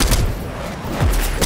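Continuous rapid gunfire in a shooter video game, loud and dense with bursts of shots filling the moment, no voice.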